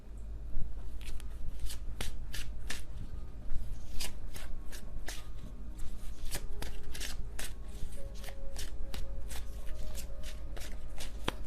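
Tarot cards are shuffled up close in a continuous run of quick riffling flicks and soft slaps, steady and fairly loud with no voices.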